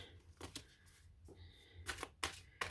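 Life Happens oracle cards being shuffled by hand, heard as a few short, soft papery riffling bursts separated by quiet gaps, close and faint.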